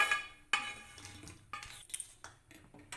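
A spoon scrapes and clinks against the pot while vegetable curry of cauliflower, potato, peas and soybean is stirred after water is added, giving a few irregular metallic knocks and scrapes, close and fairly quiet.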